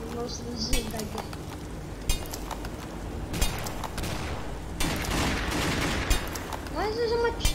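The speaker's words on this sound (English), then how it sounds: "Why is there so much shooting?" Gunfire crackles in the video game Surviving The West, with repeated sharp shots and bursts, some near and some farther off, alongside metallic clinks and a voice talking over it.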